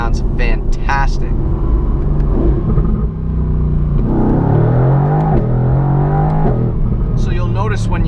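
A Mercedes-AMG GT R Pro, a street-legal GT3-style car with its exhaust set loud, drones and rises in pitch while driving, steady and close, with someone talking over it.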